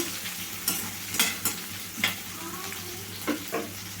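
Chopped onions fry in a pan with a soft steady sizzle, broken by several sharp scraping clicks as a spoon stirs them, fairly quiet and close, without speech.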